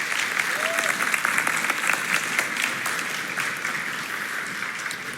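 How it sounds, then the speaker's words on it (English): An audience at a church community partner Sunday service applauds, sustained many-handed clapping filling the whole stretch, fairly even with a slight fade near the end. "Would you give them a round of applause real quick?"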